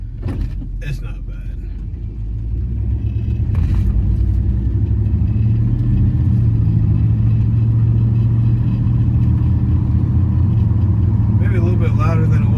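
A Chevy truck fitted with a Flowmaster FX exhaust holds a steady, low, droning engine note while it is driven. A few brief knocks come early, and the drone grows slightly louder after the first couple of seconds.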